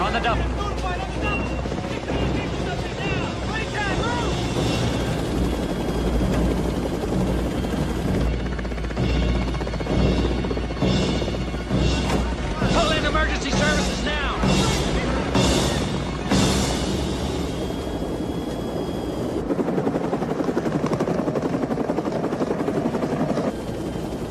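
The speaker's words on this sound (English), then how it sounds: "I can fly a helicopter." A helicopter's rotor drones steadily throughout, with voices talking over it at times.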